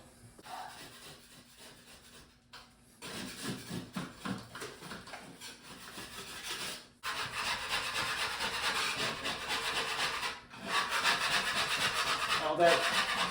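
A scraper works leftover wallpaper glue off a wall, making close, rhythmic rasping strokes in bursts separated by brief pauses, growing louder and more rapid toward the end.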